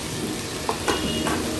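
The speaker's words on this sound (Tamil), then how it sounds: "நல்லா இஞ்சி பூண்டு பச்சை வடை போகிற வரைக்கும் நல்லா வதக்கிக்கலாம்." Ginger garlic paste sautéing in a pan for ghee rice, a steady close sizzle with a few brief stirring scrapes, heard alone without talk.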